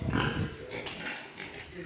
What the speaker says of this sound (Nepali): ए यहाँ सुँगुरको पाठा यो हाइब्रिडहरू हुनु हाइब्रिडहरू यस्तो छ